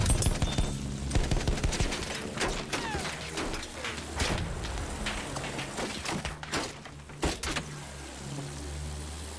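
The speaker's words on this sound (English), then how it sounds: "That's a lot of infantry fire." Dense infantry gunfire in Battlefield 1 crackles in rapid bursts and single sharp shots over a rumbling battlefield backdrop, loud and sustained throughout.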